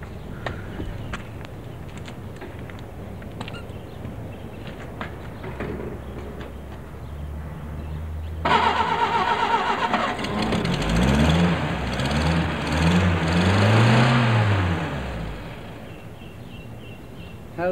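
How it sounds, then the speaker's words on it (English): A 1971 car engine fuelled by gas made from chicken manure is quiet at first, then cranks and catches about halfway through, settling into a loud, steady, rumbling run with a wavering tone. "Can you start the engine so we can hear"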